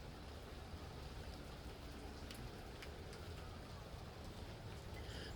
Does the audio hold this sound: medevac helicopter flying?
no